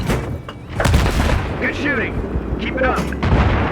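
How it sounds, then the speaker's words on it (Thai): Explosions and heavy gunfire from Battlefield 3 combat, with loud booming bursts and rumbling low-end over the full stretch, while a voice talks over the action. "บึ้ม"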